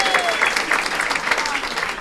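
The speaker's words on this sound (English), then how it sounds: "Let's give him a round of applause." Dense audience applause from a crowd in a room at a political campaign event, steady clapping throughout with a few brief voices mixed in.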